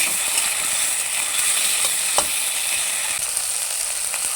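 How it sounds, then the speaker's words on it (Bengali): Chopped tomato is stirred into hot oil with a spice tempering for an aloo potol dalna, giving a steady close sizzle and hiss with faint scraping ticks of the spoon, and no voices. "টমেটোটাকে ফোড়নের সঙ্গে ভালোভাবে মিশিয়ে নেব।"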